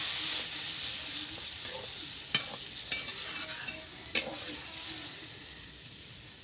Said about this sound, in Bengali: ঝোলটা ফুটছে